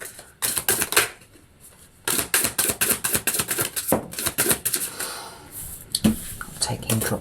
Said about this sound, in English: I'm taking dropped cards.